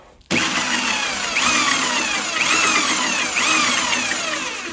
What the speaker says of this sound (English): trying to drill through all this